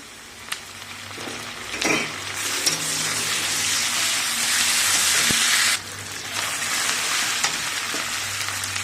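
Half-browned onion sizzles loudly in a pan as ginger-garlic paste goes in, with a few sharp clicks of a spoon against the pan, a short lull partway through, and the hiss returning.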